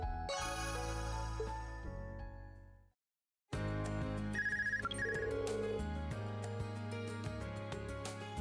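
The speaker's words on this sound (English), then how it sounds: "Somebody calls us on our personal phone?" A personal phone rings in the video game Trails of Cold Steel: short electronic ringtone bursts over steady game music, which cuts to silence briefly before resuming.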